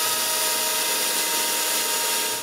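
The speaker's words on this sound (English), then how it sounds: "I drill pilot holes." A power drill bores pilot holes into a walnut clock case, a loud, continuous close whine with no pauses throughout.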